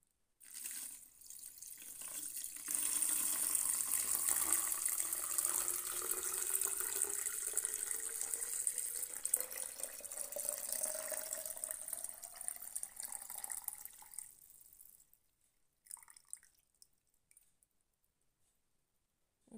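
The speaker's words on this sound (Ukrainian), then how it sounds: "Почекали, поки розсол охолов. Тепер заливаємо. Все в бутилку." Cooled brine poured into a bottle packed with herring, a steady gurgling liquid stream running for about fifteen seconds, its pitch rising as the bottle fills, then a few faint clinks and quiet.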